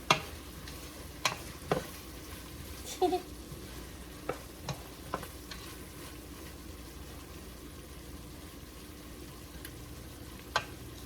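A spoon stirs ingredients in a pot for potato, ham and cheese soup, giving a soft continuous sizzle broken by scattered light clinks and scrapes against the pot, quiet and close with no talking.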